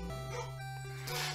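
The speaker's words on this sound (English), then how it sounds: "someone came home and the dogs are going crazy" Dogs in a home yapping and whimpering excitedly as someone arrives, heard faintly behind a steady retro game music tone.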